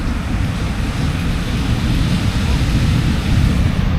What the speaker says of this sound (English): There are some really big waves on this beach though.